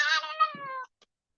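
A single drawn-out cat meow, close and clear, falling slightly in pitch before a brief soft rustle and a faint click, then silence.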